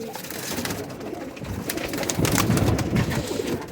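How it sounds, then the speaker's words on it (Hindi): A Sheikh-breed pigeon coos in a soft, repeated, throaty run that grows somewhat louder in its second half, with a faint bird-like bustle behind it. "ये शेखों वाला कबूतर।"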